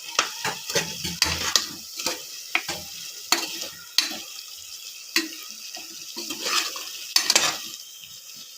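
Onions fry in a pan while a utensil stirs and scrapes through them, sharp irregular scraping taps over a soft background sizzle, close and fairly loud.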